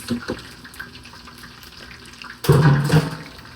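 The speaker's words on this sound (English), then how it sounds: "I'm going to rinse that really quick because I want it to be fluffy rice and not sticky rice" A cup of rice rinsed under a running tap, a steady loud gush of water starting suddenly partway through after a quieter stretch of faint kitchen noise.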